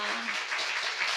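Audience applause at a Korean talk event honouring actress Lim Yoon-a, a steady broadband wash of clapping held throughout the short moment.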